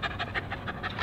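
A small hunting terrier pants rapidly and steadily at close range, each quick breathy huff following the last in an even rhythm.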